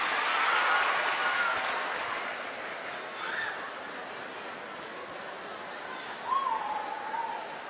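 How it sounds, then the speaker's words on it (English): Scattered applause from a group fades gradually from moderate to faint, with a few voices and some shuffling in the room. "give yourselves a round of applause and take a seat"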